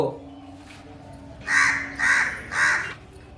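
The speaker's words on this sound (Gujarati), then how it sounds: "તમારો કાગડો બોલે એ સાંભળ્યું" A crow caws three times in quick succession, loud and close, each harsh call clearly separated, with no talking.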